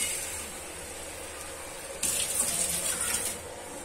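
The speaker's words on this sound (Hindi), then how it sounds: "और थोड़ा सा मैं इसके अंदर डालूंगी पानी।" Water poured into bottle gourd curry in a cooker, a steady trickle that turns into a brighter, louder splashing pour partway through, close by, with no talking.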